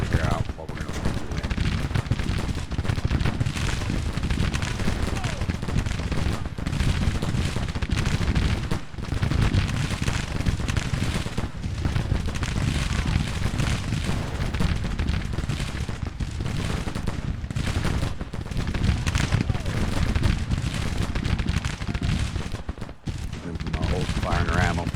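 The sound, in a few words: Civil War troops firing in Grand Tactician video game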